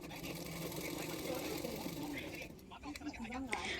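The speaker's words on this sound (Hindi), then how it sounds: "दूसरे शोल्डर को भी मैं इसी तरह से सिलाई कर लूँगी।" A sewing machine stitching the shoulder seam of a bra-cut blouse runs with a steady mechanical whir that stops partway, followed by softer handling noises, all close by.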